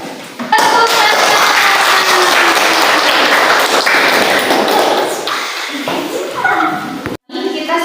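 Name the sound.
applause for group 4's presentation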